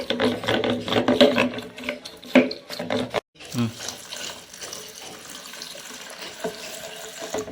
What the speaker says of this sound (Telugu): చూడండి వాటర్ పోసేయాలి.